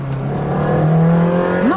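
A camouflaged Ferrari test car with its engine note droning close behind: a steady, loud, rising whine that swells in pitch toward the end, heard from just ahead.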